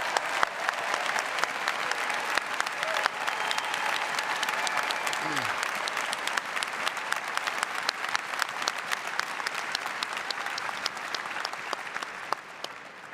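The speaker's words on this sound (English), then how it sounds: "let's give our graduates one more round of applause" Sustained applause from a large graduation ceremony crowd honoring the Class of 2017 graduates, a continuous roar of many clapping hands, loud and even from start to finish.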